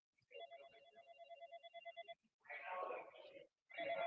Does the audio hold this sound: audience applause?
no